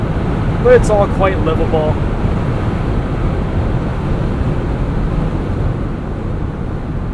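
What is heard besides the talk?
wind noise from the fold-back soft top roof of a Jeep Wrangler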